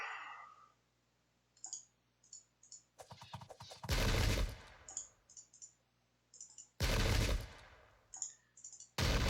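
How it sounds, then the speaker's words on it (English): Musket volleys in a Sengoku Jidai strategy game: a few sharp crackling bursts of massed gunfire stand out among quiet scattered clicks and faint distant shots. "so I'll stand and fire"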